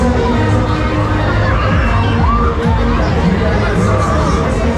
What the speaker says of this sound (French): les rires et les cris du public